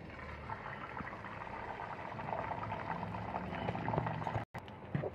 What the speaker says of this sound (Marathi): त्याच्यावरती मी आता हे अंडं घालते।